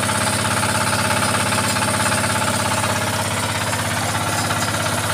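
An irrigation water pump runs behind a house, a steady, rapid mechanical chugging with a rhythmic knock, loud and continuous with no voices.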